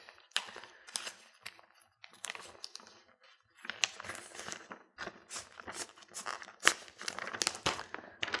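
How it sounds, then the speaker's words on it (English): Paper handled close by in a magic trick, a gimmick slid into a tear packet, giving bursts of crinkling and rustling with brief pauses, no talk. "you're going to put your gimmick on top as such, and you're going to insert it into your tear packet"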